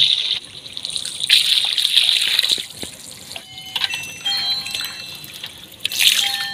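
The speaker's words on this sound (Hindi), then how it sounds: "इसको हमने बिल्कुल अच्छे तरीके से धो लिया है।" Mutton liver is rinsed under running water, with a tap splashing and trickling into a sink in bursts, close and fairly loud, along with faint handling noises.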